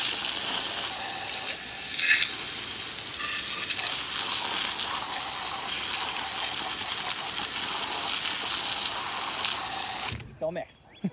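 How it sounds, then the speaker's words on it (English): A garden hose sprays water hard onto the dirty lower unit of a 1956 Evinrude 30 hp Big Twin outboard motor, a steady close hiss and spatter that stops abruptly near the end. "we'll just use the hose. But this is definitely a first for me. I've never sprayed down."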